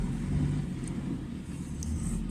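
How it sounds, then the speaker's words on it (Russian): A tractor clears snow from a road and yard on a snowy morning, heard as a steady low engine rumble with faint scraping, continuous and moderately distant. "Вот, приехал трактор, начинает чистить"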